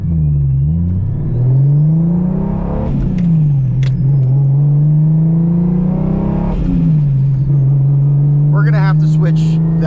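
Turbocharged Lexus IS300 with 4.10 rear gears, about 650 wheel horsepower, pulls hard under acceleration from inside the cabin, its loud steady engine drone rising through several gear changes with brief dips between shifts; a voice speaks near the end.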